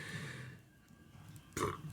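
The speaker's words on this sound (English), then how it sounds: "Oh fuck, why am I burping so much?" A person burps loudly and abruptly near the end, following a stretch of room noise with faint murmuring, close to the microphone.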